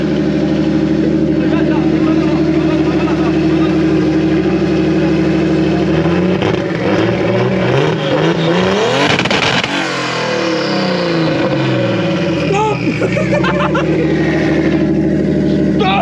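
A turbocharged BMW E36 320i engine at 1.1 bar boost revs hard and close, bouncing off the rev limiter with rough stuttering bursts that sustain loudly throughout.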